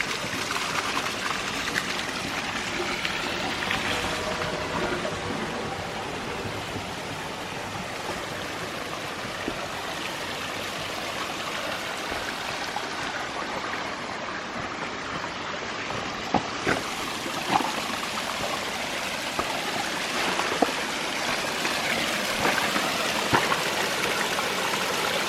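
Creek water flows and trickles steadily into a plastic intake barrel built as a silt catchment for a micro hydro system, a continuous close gurgle with occasional splashes and no speech.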